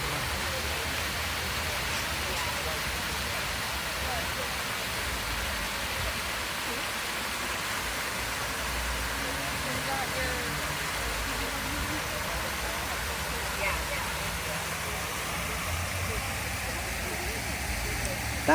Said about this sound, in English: But I wanted you to see this waterfall.